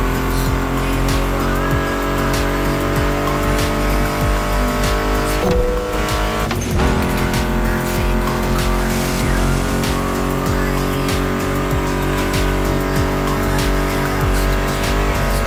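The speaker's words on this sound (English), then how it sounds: "Meshes well with the sound of the engines, you feel me?" Muscle car engines revving and roaring in The Crew Motorfest racing game, loud and continuous with tires squealing, a sharp shift mid-way, and music mixed in.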